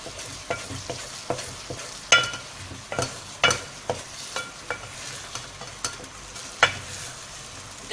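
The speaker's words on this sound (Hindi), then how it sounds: "अब हम इसे इतना भूनना है हमें कि इसका घी ऊपर आ जाए।" Halwa roasting in ghee in a pan, a spoon scraping and stirring in repeated soft strokes over a steady low sizzle, close and fairly quiet.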